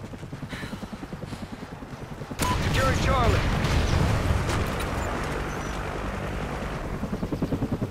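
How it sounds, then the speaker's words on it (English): In the video game Call of Duty Ghosts, a friendly helicopter flies in on the Prison Break map. A loud, dense rotor roar swells in suddenly and holds steady with a rapid chopping pulse, mixed with bursts of gunfire and battle noise. "Friendly chopper inbound."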